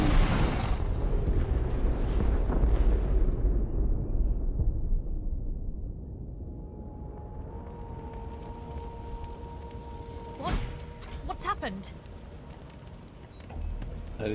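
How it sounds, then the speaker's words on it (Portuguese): Explosion in the fantasy role-playing game Divinity: Original Sin 2: a loud, broad blast at the start rolls into a long, fading rumble, followed by a steady tonal hum and a few sharp pops near the end. "Explosão, tchacabum!"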